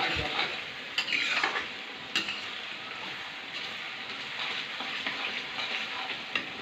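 Onion frying in a pan for a bharangi wild vegetable dish: a soft continuous sizzle broken by occasional scrapes and clinks of a spoon stirring, with no talking.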